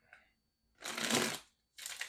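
Tarot cards are shuffled close up in two quick riffling bursts, a brief pause between them, with a faint soft tap at the start.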